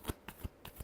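Tarot cards are shuffled in a short close burst of three or four quick papery slaps, evenly spaced and fairly soft, with no voices.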